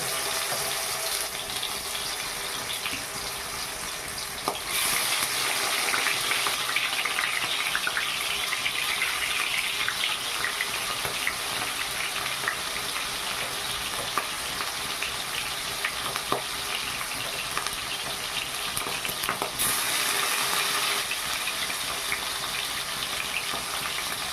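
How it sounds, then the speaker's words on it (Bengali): Pangasius fish pieces, rubbed with salt and turmeric, fry in hot oil, giving a loud, dense, unbroken crackling sizzle with occasional louder bursts when pieces are added or shifted. "এবারে একে একে মাছগুলোকে ভেজে নেব"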